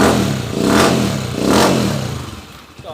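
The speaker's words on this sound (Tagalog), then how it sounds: "ito na yung andar ng motor ng Uncle" A Motorstar motorcycle engine revs twice in close succession, each throttle blip swelling loud and then falling back, before settling to a lower idle.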